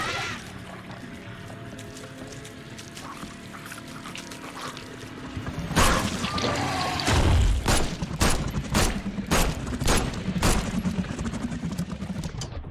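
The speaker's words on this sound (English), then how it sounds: "Why am I wasting bullets on like this?" Gunfire in The Sinking City, a horror video game: after a stretch of low ambient rumble, a rapid series of sharp, loud shots rings out one after another in an irregular burst, with no voices.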